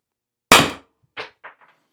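A less-lethal launcher, Byrna or Salt, fires one sharp, loud shot, followed by three fainter clattering impacts in quick succession, each quieter than the last.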